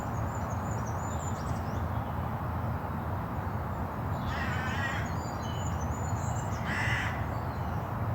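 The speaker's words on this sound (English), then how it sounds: "Come on, Mr. Crow. Make an appearance." A crow calling in the woods, two short bursts of harsh caws a couple of seconds apart, moderately distant over a steady outdoor background hiss with faint birdsong.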